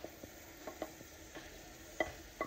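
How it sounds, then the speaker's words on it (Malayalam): Tomatoes being sautéed with garlic and ginger, a faint low sizzle broken by several soft stirring clicks and scrapes against the pan, no voices. "ഇനി തക്കാളി ഒന്ന് നമുക്ക് വഴന്ന് വെക്കാം."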